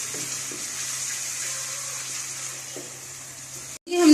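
Garlic and ginger paste cooks in hot oil in a wok for a Chinese biryani, making a steady, moderately loud hiss that ends abruptly in a brief clatter.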